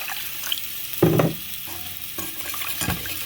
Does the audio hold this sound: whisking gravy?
yes